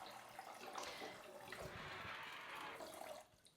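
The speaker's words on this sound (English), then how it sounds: "what this provides is a flow of water that you can direct also to the areas that you feel that need a little bit more washing" Water sprays steadily from a bidet attachment fitted to a toilet, a close, even hiss of flowing water that runs for a few seconds and then cuts off near the end.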